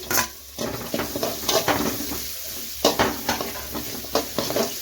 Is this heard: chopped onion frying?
yes